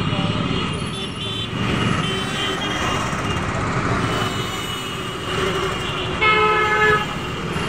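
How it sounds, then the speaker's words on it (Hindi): Dense road traffic near the Hanuman Setu bridge in Lucknow, with repeated car horns and train-like toots cutting through a steady roar of engines, under continuous talk. "ट्रैफिक कितना ट्रैफिक है देखिए इस समय"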